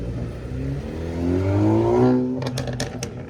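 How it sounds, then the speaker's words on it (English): A tuned classic Alfa Romeo revs up at a cars and coffee meet, with a rising, throaty exhaust note that swells and falls, followed by several sharp clattering knocks. "Oh, that exhaust sounds so cool."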